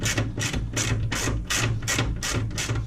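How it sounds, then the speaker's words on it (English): Impact wrench on a suspension nut of a Triumph Spitfire 1500, hammering close and loud in rapid, evenly spaced bursts across a few seconds. "I've got the impact wrench out,"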